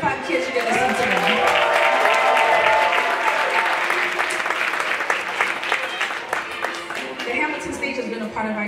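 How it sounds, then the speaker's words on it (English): Loud theater applause for a group of children performers at a stage reopening, dense and sustained clapping from a large audience with voices and cheering mixed in throughout. "Clap it up for these 35 kids you get to see today."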